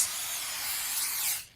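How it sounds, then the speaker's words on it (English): Rat poison sprays onto rats in an indie horror video game, one steady loud hiss that holds for over a second and then cuts off, alone with no talk. "then you hear it spraying"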